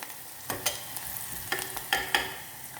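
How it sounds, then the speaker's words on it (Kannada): Onions frying in a pan give a soft background sizzle, broken by a few sharp scrapes and clinks as they are stirred. "ಇವಾಗ ಈರುಳ್ಳಿ ಚೆನ್ನಾಗಿ ಫ್ರೈ ಆಗಬೇಕು"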